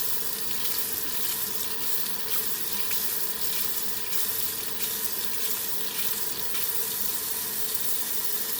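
Tap water running steadily while a paint brush is washed out, a continuous close hiss and splash at moderate level with no pauses.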